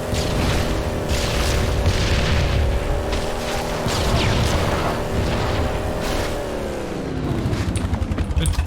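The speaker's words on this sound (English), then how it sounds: "Explosives will shoot from the ground" Out-of-bounds explosives bursting from the ground on a Halo 3 map: a steady, loud rumbling roar of continuous blasts with droning engine-like tones throughout.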